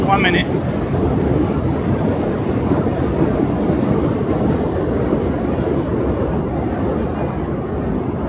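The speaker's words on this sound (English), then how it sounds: "I'm always trying to compete with the sound of the train." A train rumbles past close by on McDonald Avenue in Brooklyn, New York, with a continuous heavy roar and rattle that holds steady throughout.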